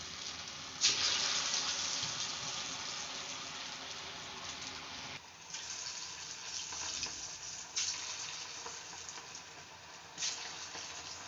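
Steady, dense sizzle of yam balls frying in hot oil, close and continuous with a few brighter crackling surges as more balls drop in, no talk over it.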